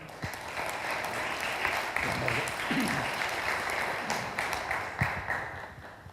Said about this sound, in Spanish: Recibamos con un aplauso al doctor Juan Diego Ortiz Acosta